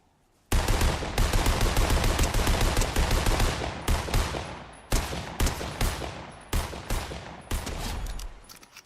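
Rapid automatic gunfire in the Fortnite video game, loud sustained bursts of shots rattling for several seconds, then breaking into shorter volleys with brief gaps toward the end.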